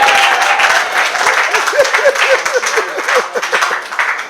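A church congregation applauding and cheering during worship, dense clapping with some rhythmic beats, loud and close, with voices mixed into the crowd noise.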